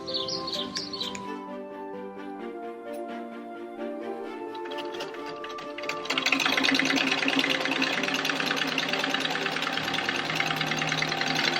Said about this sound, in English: I'm going to sew them folded over and then just sew on one side.